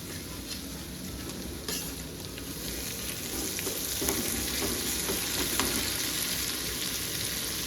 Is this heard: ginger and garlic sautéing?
yes